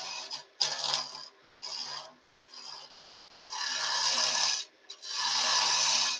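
A spindle gouge cutting wood on a lathe, rough rasping scrapes in uneven bursts of varying length separated by brief pauses, close and fairly loud with no talking.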